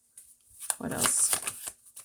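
A deck of tarot cards shuffled during a card reading, a single close, papery riffling burst of about a second that rises and fades quickly.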